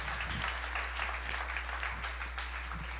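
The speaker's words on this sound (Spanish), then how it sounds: "Dale un aplauso fuerte al Señor, aleluya." Church congregation applause for the Lord during a finance seminar, a steady, fairly distant patter of many hands clapping over a low electrical hum, quiet and continuous for about three seconds.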